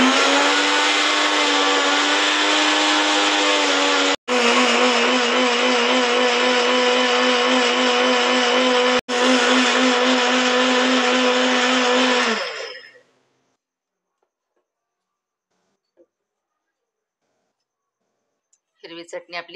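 A mixer grinder whirs loudly and steadily, grinding green chutney for pani puri, briefly stopping twice before a final run that winds down to silence, followed by faint clicks.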